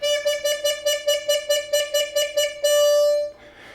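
C harmonica note repeatedly articulated with tongue taps, about a dozen quick, even pulses, then held steadily before fading, close and solo.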